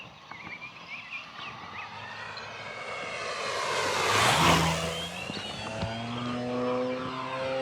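E-flite P-51D Mustang 1.5 m RC plane with its propeller droning at low throttle, pitch rising and swelling louder as it passes close by mid-clip, then easing to a steady hum, no talking.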